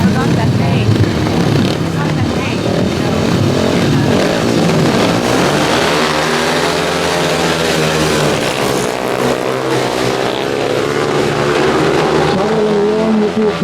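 Speedway motorcycles racing on a dirt track, engines wound up in a loud continuous roar with pitch rising and falling as bikes pass, under excited commentary.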